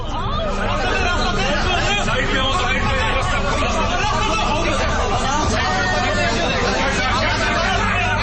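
Dense crowd hubbub surrounds Nawaz Sharif as police pull someone away in Pakistan, with loud, continuous overlapping chatter and shouting voices close by for the whole stretch and no pause.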